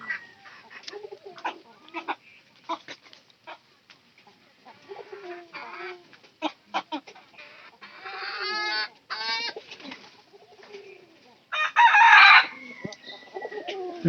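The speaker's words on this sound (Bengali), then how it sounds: "আর সবগুলো কবুতর আমাদের" Hand-raised pigeons in a home loft call and coo in scattered bursts, some short and clipped, with a couple of louder, drawn-out calls rising near the end amid quiet pauses.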